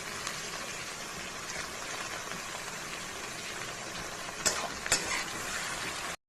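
Tomato dropped into a pan of frying garlic gives a steady, close sizzle, with a couple of sharper crackles and stirring scrapes near the end.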